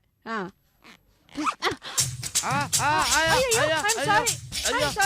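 A clothing zipper with a beard caught in it rasps and tugs while people talk excitedly and loudly over it at close range.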